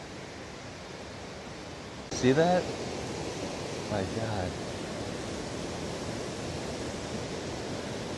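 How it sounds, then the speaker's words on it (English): A big creek flows alongside a hiking trail in winter, a steady broadband rush of water running throughout, with a person briefly speaking over it. "Looks like the whole hike goes along this big old creek."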